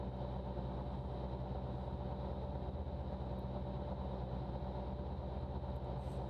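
Raptor prototype aircraft in flight, its engine and propeller droning steadily with a low even hum after the prop governor is eased back, a constant close cabin-level tone with no talk.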